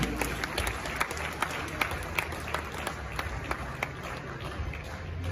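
Applause from an audience at the 29th GJA Awards ceremony in Manhyia, Ghana, welcoming the Acting Chief Justice: steady dense clapping fills the hall, with sharper individual claps standing out throughout.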